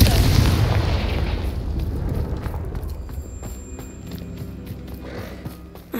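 In the Hogwarts Legacy video game, a Confringo fire spell bursts with a heavy, booming explosion at the start, then a rumbling roll that fades over several seconds under scattered game sounds.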